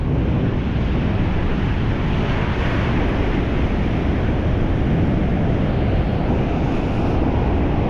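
Ocean waves wash onto a beach in a steady, loud roar of surf, with wind buffeting the microphone throughout and no speech.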